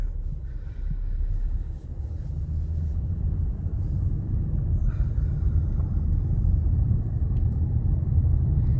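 A 2009 Lexus LS460 with an eight-speed automatic transmission drives along, heard as a steady low engine and road rumble from inside the cabin, with no obvious break during gear changes.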